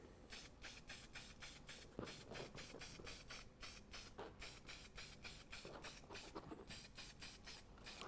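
Spray paint is dusted lightly over a stencil in short repeated hissing bursts, a quick steady rhythm of puffs with faint rattles between them, close and continuous throughout.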